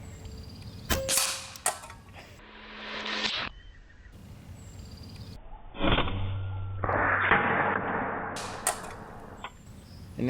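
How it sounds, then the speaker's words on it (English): An Evanix Raptor .30 semi-auto bullpup PCP air rifle fires at a fake Santa Claus target, with sharp cracking reports followed by clattering, ringing noises and stretches of hiss. "we're gonna shoot the hat off fake Santa Claus's head"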